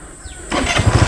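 A GPX Drone 150 motorcycle on its center stand cranks and catches at the end, sputtering into a low rumbling idle through its stock exhaust after a short quiet start.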